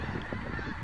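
A dense flock of snow geese in Arkansas honks continuously, many overlapping calls blending into a loud, busy clamor.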